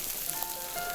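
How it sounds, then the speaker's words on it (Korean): Deodeok root brushed with gochujang sauce grilling, a soft continuous sizzle with faint crackles, fairly quiet and close. "지글지글 익어가는 음식을 보고 있자니"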